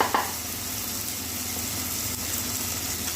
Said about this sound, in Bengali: টমেটো খুব ভালো মতো ভাজা হয়ে গেছে